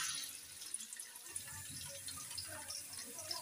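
Chopped onions go into hot oil in a pan, giving a faint, steady hiss and crackling sizzle that continues evenly throughout.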